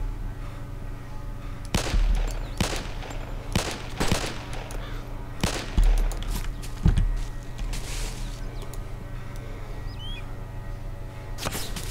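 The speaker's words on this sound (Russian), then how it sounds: "Он первый выстрелил." Gunshots in the video game DayZ Epoch crack out as a series of sharp, separate reports at irregular intervals, some close and loud, others fainter, over a low steady hum.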